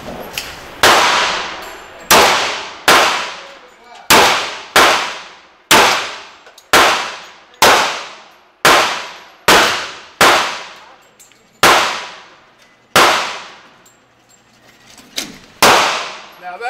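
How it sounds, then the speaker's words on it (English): Rock Island Armory 10mm 4.25-inch TAC II pistol firing about fourteen loud, sharp shots, each with a ringing decay, spaced roughly a second apart outdoors. "Now that's a true double tap."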